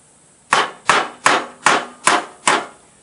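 A hammer drives a punch into the center divot of a Troy-Bilt wide-cut mower's Peerless transmission axle, six sharp, evenly spaced metallic blows, close and loud, with nothing else heard between them.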